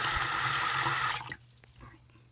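Water gushes from a bathroom sink tap for about a second, used to bathe a 1998–1999 Furby toy, then cuts off abruptly, leaving faint drips and quiet handling sounds.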